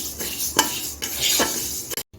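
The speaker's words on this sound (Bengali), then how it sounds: "এখন আমি ডালটা ভেজে নেব" Dry lentils are stirred in a wok with a metal spoon, giving a few sharp scraping clinks against the pan at an uneven rhythm. The sound is close and clear, with no talk.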